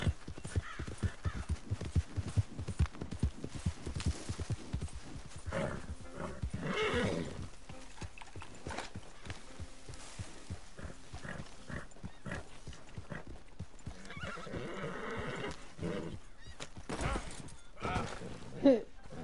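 A horse whinnies amid clip-clopping hooves and game-style ambience in Red Dead Redemption 2, with voices talking intermittently over the top.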